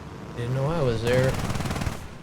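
Aircraft machine gun in the video game War Thunder, a fast sustained burst of rattling fire that starts abruptly midway and runs for about a second, following a voice talking over engine drone.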